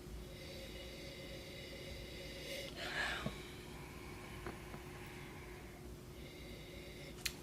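Someone takes a brief, fairly quiet sniff of Bandit Pinot Grigio box wine in a glass, with a few faint clicks and a steady low background hum.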